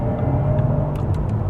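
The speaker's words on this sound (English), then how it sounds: "Let me just get past this car because it gives me an excuse to put my foot down." An electric sports sedan accelerating hard to overtake, heard from inside as a steady low rumble of road and tyre noise with a faint whine, without pauses.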